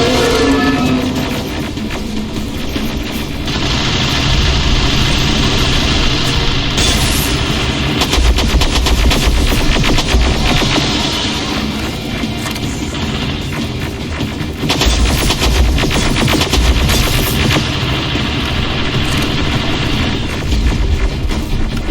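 Loud, sustained automatic gunfire from Terminator Resistance, continuous rattling bursts close up for over twenty seconds with brief lulls, and no talking.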